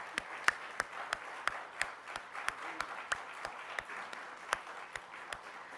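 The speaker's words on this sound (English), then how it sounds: "let's give one more round of applause for Mark" Audience applause for Mark Levy at a Unitarian Universalist church service, sparse individual claps in a steady irregular patter at moderate volume rather than a dense roar.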